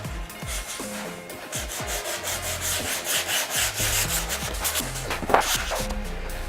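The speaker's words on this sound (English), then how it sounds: "The more sanding that you do, the better the quality of this" Hand sanding of wooden case parts during a custom Psycho Jasper case build, a steady rhythmic rubbing and scraping of abrasive on wood, close and continuous with no talking.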